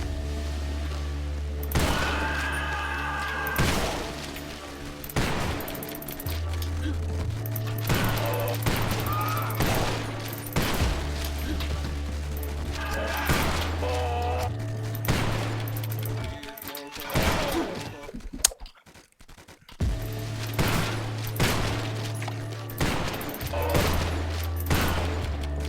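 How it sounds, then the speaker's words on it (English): Shotgun blasts in the video game Garage: Bad Trip during a boss fight, heavy booming shots fired in rapid irregular bursts over a droning music bed, loud and close, with a brief quiet gap midway. "I'm going to pull out the shotgun now."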